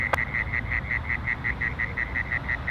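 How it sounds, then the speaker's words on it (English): Loud insects chirp at night near Sydney Airport, a steady pulsing train of shrill, evenly spaced calls repeating about three times a second over a low background rumble, with one brief sharp click near the start. "those crickets are so loud"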